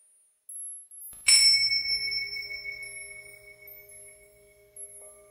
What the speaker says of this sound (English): until you hear the sound of a bell.